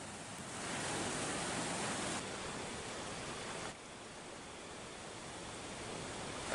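Floodwater from the Bantimurung waterfall in Maros pours in a loud, steady broadband roar after heavy rain, with no pauses and a slight drop in level partway through.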